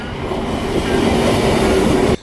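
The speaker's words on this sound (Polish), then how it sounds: "Pociąg." A train rolls past close by in a steady, loud rumble with faint rail clatter, cutting off abruptly near the end.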